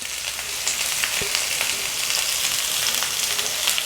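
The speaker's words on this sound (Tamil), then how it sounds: "இப்போ எண்ணெய் சூடாகிடுச்சு. கட் பண்ணி வச்சுருக்கிற 2 பெரிய வெங்காயத்தை சேர்த்துக்கிறேன்." Two large, roughly sliced onions sizzle in hot oil in a pan, a steady close crackling hiss with scattered pops and no talking.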